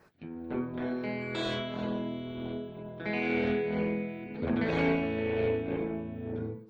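Electric guitar runs through an EHX Stereo Pulsar Nano set for stereo ping pong tremolo, with sustained chords pulsing back and forth under a strong, steady swell, loud and close with no talking.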